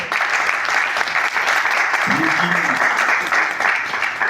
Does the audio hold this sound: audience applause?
yes